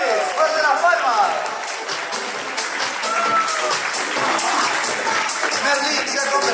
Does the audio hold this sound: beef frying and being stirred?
no